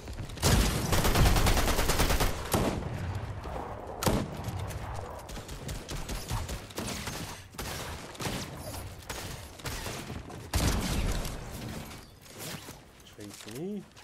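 Gunfire bursts in a Fortnite battle royale match, loud rapid volleys and single shots clustered through the clip, with a voice speaking over them.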